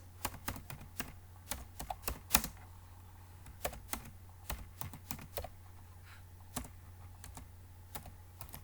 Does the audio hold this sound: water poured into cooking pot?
no